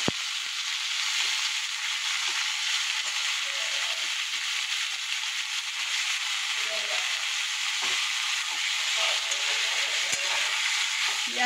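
Onions frying in hot oil with garlic and chilli, a steady, bright, close sizzle that stays even throughout with occasional soft stirring noises.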